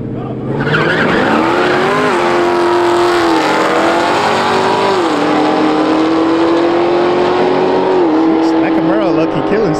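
Street roll racing, with cars revving hard and accelerating in a sustained, loud engine roar that shifts pitch through gear changes, tires squealing; voices talk over it near the end.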